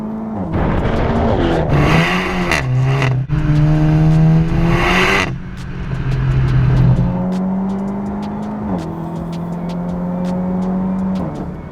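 A Seat Leon Cupra Stage 2 fitted with RS3 exhaust tips drives hard, its engine revving loudly and close, climbing through the revs with quick gear changes before settling to a steadier cruise, with no talking.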